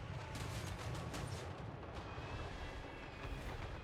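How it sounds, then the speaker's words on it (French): Imperial artillery batteries pound away in a chaotic fantasy video game battle, a dense continuous rumble of cannon blasts and gunfire with sharp booms cutting through steady low roar. "Les batteries tonnerres de feu, plus puissantes artilleries de l'Empire, faisaient vibrer leurs canons sur les maraudeurs"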